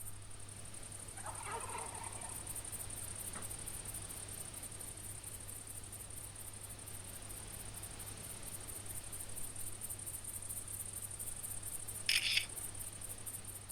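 A wild turkey in The Hunter game gobbles faintly in the distance, one brief rattling burst early and another short sharp call near the end, over a steady outdoor hum and high insect drone.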